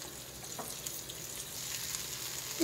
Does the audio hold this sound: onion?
yes